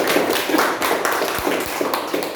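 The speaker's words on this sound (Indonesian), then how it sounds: "Tepuk tangan buat NEPJ Bapak Ibu" Audience clapping at a Zoom sharing session, a steady stream of dense, overlapping hand claps with a few sharper taps standing out, fairly close and continuous throughout.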